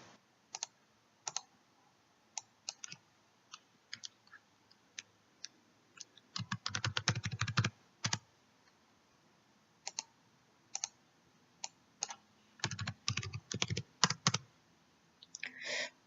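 Clicks of a computer mouse during Photoshop work, sparse single clicks at first, then two dense bursts of rapid clicking, quiet and close, with no talk.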